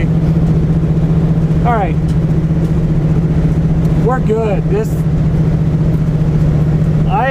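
SN95 Ford Mustang fitted with aftermarket spindles, its engine holding a steady loud drone from inside the cabin throughout, with someone speaking briefly over it.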